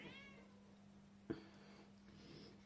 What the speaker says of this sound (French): J'ai mon chat qui discute